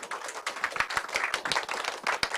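An audience at a live event with a candidate, meeting young people and social workers, claps together in a brisk burst of applause, with dense, close, rapid hand claps throughout and no talking.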